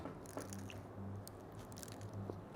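Quiet, close bites and soft crunchy chewing of a burger, a few muffled crunches over a low steady hum, with no talking.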